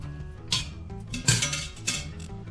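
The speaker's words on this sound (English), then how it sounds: "I'll just give that a little stir" A spoon stirs tomatoes and water in an Instant Pot, giving a few soft clinks and scrapes against the metal inner pot, quiet and close, with brief knocks spaced a half second apart.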